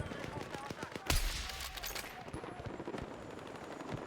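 Gunfire in the video game Battlefield 6: rapid automatic bursts with one heavy blast, dense and fairly close, over a busy game soundscape with some voice in the mix.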